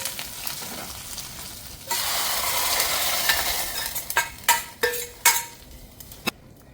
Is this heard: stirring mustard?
yes